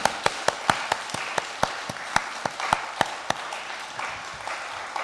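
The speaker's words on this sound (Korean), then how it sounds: "박수 한번 쳐주시기 바랍니다." A church congregation at an early-morning prayer service claps hands, sharp distinct claps in a quick steady rhythm that settle into a softer patter over a few seconds.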